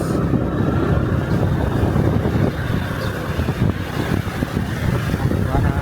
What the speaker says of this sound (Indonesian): Suara sungainya tuh terang-terang.